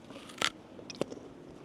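Two crisp crunchy bites into a fresh guava, close to the ear, followed by quiet chewing, with no talking.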